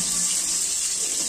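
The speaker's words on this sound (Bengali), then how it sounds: "আমি এখন বেগুনটা ভাজা হচ্ছে" Eggplant frying in a pan for a spiced yogurt eggplant dish, giving a steady loud hiss and sizzle that carries on without a break, with no talking.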